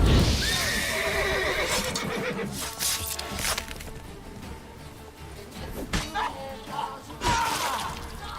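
A horse neighs and whinnies in the video game The Witcher 3: Wild Hunt, loud and close, with a long whinny opening and more neighs over busy in-game sound.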